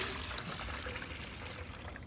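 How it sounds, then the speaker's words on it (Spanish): Ordinary tap water pours steadily into a clear container for a betta fish, a continuous close splashing trickle that runs the whole time at a soft level. "lo que le vamos a echar agua normal."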